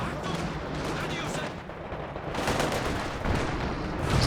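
Pershing tank cannon fire and other gunfire in a Company of Heroes 2 battle, a dense, continuous rumble of repeated booming shots and blasts with bursts building toward the end, all loud and close.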